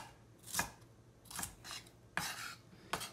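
A kitchen knife chops vegetables for coleslaw on a cutting board, four separate crisp cuts spaced about a second apart, close and fairly quiet, with no talking.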